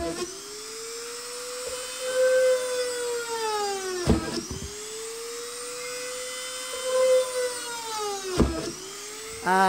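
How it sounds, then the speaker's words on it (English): A Dremel rotary tool drills holes in a part for a 3D-printed arcade cabinet build: a steady high whine that dips sharply in pitch as the bit bites in, twice, then spins back up, loud and close with no talk. "And then with my Dremel, I'm going to drill some holes in it."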